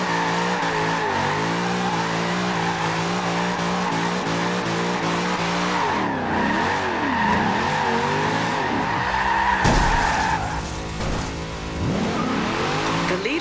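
Tires squeal and skid during a video game car race, sustained engine tones with sweeping pitch bends and a loud burst of skidding near the end, with no talking.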